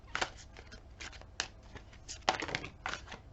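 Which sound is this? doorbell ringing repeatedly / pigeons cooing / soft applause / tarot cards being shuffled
tarot cards being shuffled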